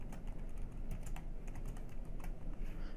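Quick, light keystrokes tap on a computer keyboard as a title is typed, a soft irregular patter of clicks heard close and quiet with no voices.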